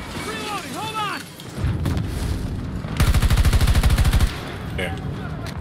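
Gunfire in a first-person shooter game running at 1080p on a GTX 1060 6GB, including sniper shots: a dense burst of rapid automatic fire in the middle and scattered heavier shots, with brief voice sounds early on.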